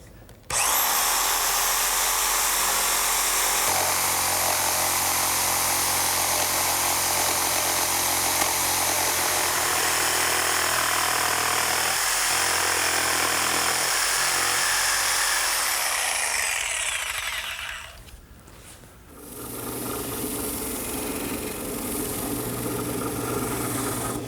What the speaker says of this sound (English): this portable jigsaw will do just fine.